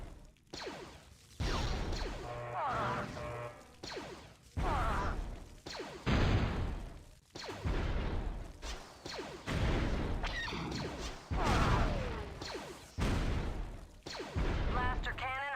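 Blaster cannon assault salvo in a Star Wars video game: a long run of loud, repeated heavy blasts and whooshing impacts in uneven bursts, with game voices speaking between shots.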